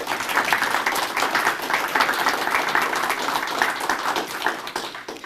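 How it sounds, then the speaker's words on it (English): Audience applause for city commission candidates at a local candidate forum, steady dense clapping from a room full of people holding at an even level for about five seconds. "let's give them all another round of applause."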